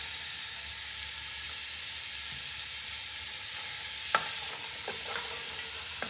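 Carrots, celery and onions sizzle steadily in a soup pot, a continuous close frying hiss with a few brief stirring scrapes near the end.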